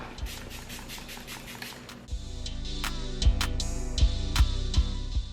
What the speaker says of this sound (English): I'm gonna spray my sponge and then blend it out